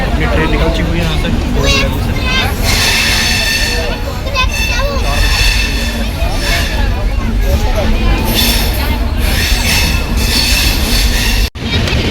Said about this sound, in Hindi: अपनी ट्रेन निकल चुकी हुई है यहाँ से।